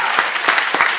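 Audience at a high-school debate prize ceremony claps for the winner, a brief, dense burst of applause close and loud, with no voices over it.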